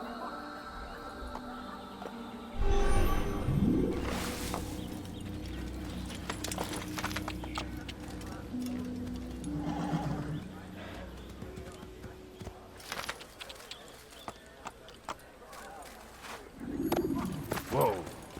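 Horse galloping with rapid clip-clop hoofbeats and a loud neigh in the video game Assassin's Creed, hooves steady through the middle with another whinny near the end, mixed with game sounds.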